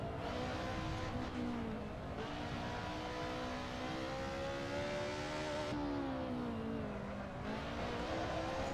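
A Ferrari race car in a driving game holds a sustained engine drone that rises and falls through gear changes and throttle, steady and close throughout with no talk.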